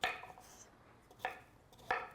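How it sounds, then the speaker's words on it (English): Knife chopping pre-washed, unpeeled carrots into bite-sized pieces in a home kitchen, with two sharp, distinct chops against a cutting board after a faint scrape, quiet and close with no talk. "I've already pre-washed these carrots. And I'm just going to be chopping them in bite-sized pieces."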